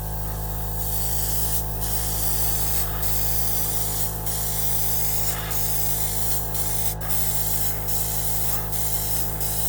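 A Gaahleri Turbo X compressor drives an airbrush spraying model car paint, making a loud, continuous near hiss with faint regular pulses from the compressor beneath, and no talk.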